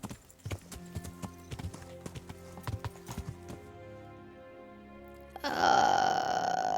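Horse hooves clip-clop at a steady walking rhythm in the medieval video game Kingdom Come: Deliverance, fairly close and alone, then broken off by a louder burst of game sound near the end.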